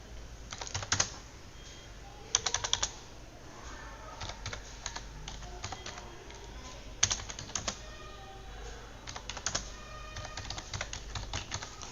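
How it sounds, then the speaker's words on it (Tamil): Computer keyboard keys clatter in irregular bursts of quick taps while text is entered in Adobe Illustrator, close and fairly quiet against a faint room hum. "எனக்கு தேவையான டெக்ஸ்ட்டை வந்து நான் டைப் பண்ணிட்டேன்"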